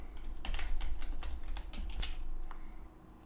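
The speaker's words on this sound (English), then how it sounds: "I put my cursor in my first header cell, and I type in header 1" Rapid clicking bursts of typing on a computer keyboard while entering header text into a table in Dreamweaver, close and crisp, with irregular clusters of keystrokes and short pauses.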